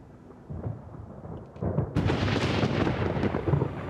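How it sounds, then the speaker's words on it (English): Violent thunderstorm rolling through a canyon: low rumbling thunder swells after a quiet start, then breaks into a loud, sustained crackling roar with heavy broadband noise, close and enveloping, no voices. "a violent storm blows into the canyon"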